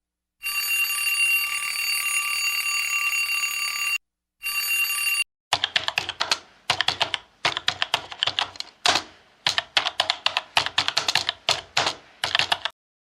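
A ringing bell trills for a few seconds, then rapid clacking keystrokes on a keyboard follow in uneven bursts, close and clear.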